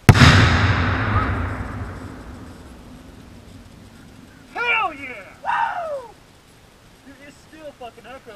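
A 170 g charge of flash powder detonates with one sharp, very loud blast that rolls off into a long fading echo, followed by excited shouting from people nearby.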